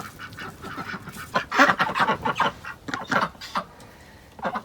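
Backyard ducks and drakes calling, a flock giving repeated raspy quacks and honking bursts in uneven clusters, fairly close and loud, with short pauses between runs.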